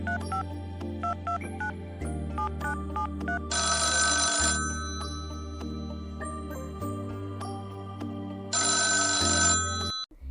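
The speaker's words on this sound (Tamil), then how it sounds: "இரண்டு தடவை ரிங் போய் ஒரு வழியாக ரிசீவர் எடுக்கப்பட்டது." A telephone rings out clearly, heard as a loud repeating electronic ring pattern with two bright bursts, during a phone call in a Tamil short story. No one speaks over it.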